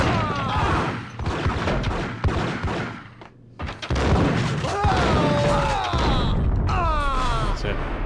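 Shootout gunfire in Max Payne on PS2: bursts of loud shots and thuds, a short lull, then more rapid firing with clattering impacts, mixed with brief voices.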